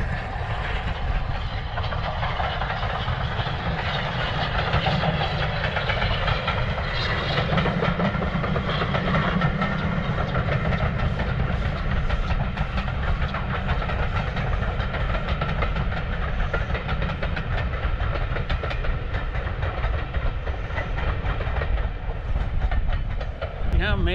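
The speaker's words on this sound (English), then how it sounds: "It's the Flying Scotsman, that's why they're all stood here." The Flying Scotsman steam locomotive passing with its train at a country park, a loud continuous rumble and hiss with rail clatter lasting throughout, people talking faintly beneath.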